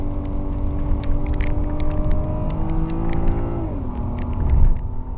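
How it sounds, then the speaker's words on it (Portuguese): A BMW car engine revs and accelerates up close, a steady loud drone rising in pitch and then shifting gear near the end, with no talk over it. "Só uma retinha pra dar uma aquecida no motor."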